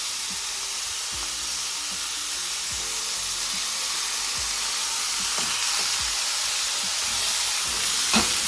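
Mixed seafood and corn simmering in their juices in a pot, a steady, even hiss and bubbling sizzle throughout with occasional soft pops.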